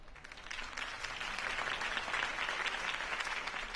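Sustained crowd applause in the video game Batman: The Telltale Series, a dense wash of clapping heard from a distance, steady in level throughout with no voices standing out.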